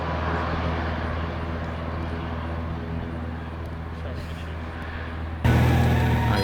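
Cessna 182 airplane going around with electric flaps, a steady droning engine and propeller hum that holds throughout and turns louder and brighter near the end as power comes up.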